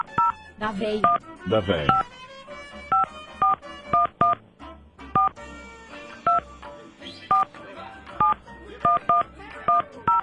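Telephone dialing tones for a call to Argentina on a radio show: a long series of sharp, evenly spaced touch-tone beeps, loud and close, with talk and background studio sound between them.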